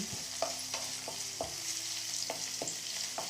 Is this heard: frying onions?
yes